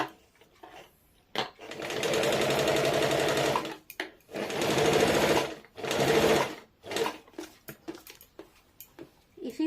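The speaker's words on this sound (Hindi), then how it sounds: "अब 1 इंच वाला लेके सिलाई कर लेंगे।" A sewing machine stitches a palazzo trouser seam in bursts of rapid, even mechanical chatter, several runs of a second or two separated by short pauses and light handling clicks, close and clear with no talk.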